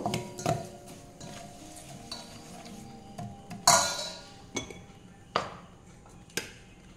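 Spoon stirring hot oil and spices into mango pickle in a metal pot, soft scraping with several sharp clinks against the rim and a faint sizzle, fairly quiet and intermittent.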